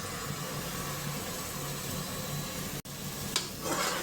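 Spice mix for bitter gourd and pangas fish frying in a pan, a steady close sizzle and crackle with stirring noises, a brief cut near the end, and no voices.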